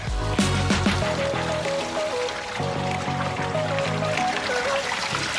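Water pours and trickles from a pond water wheel, a steady close splashing flow with faint tonal chimes drifting over it.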